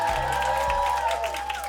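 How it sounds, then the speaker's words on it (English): A live show crowd applauds and cheers for the band, clapping and whoops blended under a sustained tonal ring from the stage, loud and continuous. "Clap it up for my band"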